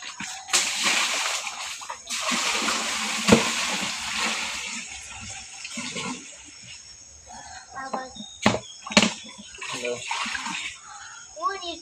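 Water poured and splashing into a home fish tank during setup, sloshing bursts near and fairly loud, with a person talking over parts of it.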